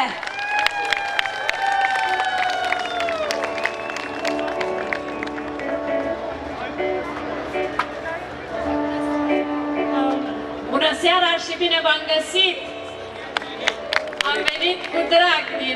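Audience applause at a concert recital in Moinești for two singers, sustained clapping among many listeners over music and voices, swelling into busier, louder clapping near the end.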